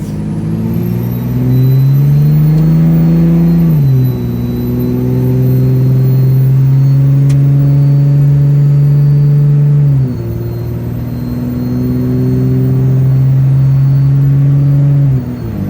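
A Cummins diesel truck with an MBRP 4-inch exhaust pulls hard at half throttle into third gear, its loud droning engine note climbing through two gear shifts, each marked by a brief dip before rising again.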